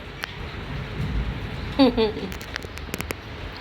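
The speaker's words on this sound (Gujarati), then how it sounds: "વરસાદ આવે છે." Heavy rain falls steadily in Rajkot as a continuous broadband wash, with a brief burst of voices near the middle and a few sharp ticks toward the end.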